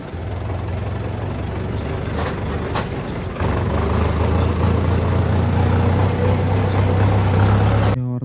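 A Kubota tractor engine runs with a steady, loud low rumble close by. It holds an even idle, then gets a little fuller and louder partway through, with no talking.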